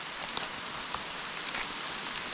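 Heavy rain falling on a steep mountainside, a dense, steady hiss with scattered nearer drop impacts, continuous and fairly soft, with no voices.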